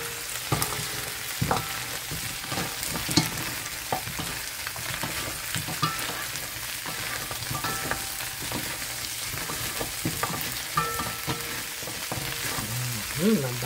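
Kare-kare meat sautéing in a pot, with a steady frying sizzle and intermittent scraping, clattering stirs of a spoon against the pot, fairly faint and close.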